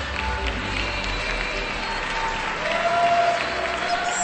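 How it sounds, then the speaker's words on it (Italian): An audience at a hairdressing show applauds a sponsor, Air Fashion, with steady, dense clapping that holds loud and even throughout, swelling slightly near the end. "per cui un grande applauso"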